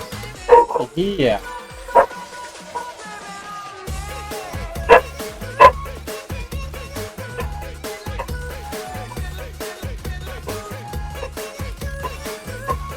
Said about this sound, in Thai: กูอัดคลิปปุ๊บเห่าตลอดเลยวะ